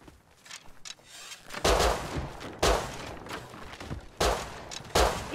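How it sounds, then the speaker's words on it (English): Gunshots in the Rust survival game, five loud sharp reports spaced about a second apart with reverberant tails over faint background rustle, no talk. "He's missing shots, he hit me once."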